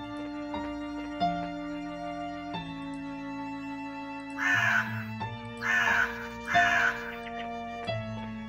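Crows with red eyes caw in harsh bursts in a forest scene from a horror video game. The three bursts come in quick succession over a steady droning game soundtrack.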